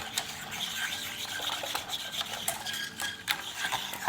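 Vanilla being stirred into a firni mixture in a pot, a steady close scraping and rubbing of the spoon with soft irregular swishes throughout, no voices.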